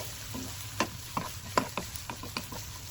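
Ajwain carom seeds and onion frying in a pan, a low steady sizzle broken by several sharp scraping stirs at an irregular pace.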